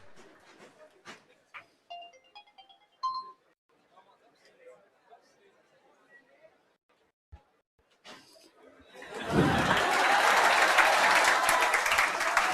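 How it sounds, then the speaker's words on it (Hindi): Applause breaks out in a classroom at a coaching academy to welcome the teacher. Quiet chatter and scattered sounds come first, then loud, dense clapping swells in and holds steady until the end. "सर के लिए जोरदार तालियां"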